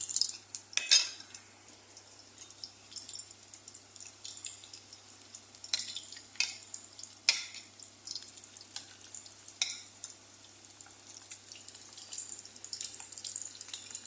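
Egg sizzling in a pan, a faint steady hiss with occasional clinks of a utensil against cookware, quiet and close with no voices.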